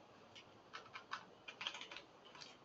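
Keystrokes on a computer keyboard, a short uneven run of light clicks with a brief pause partway through, faint and close, with no voices.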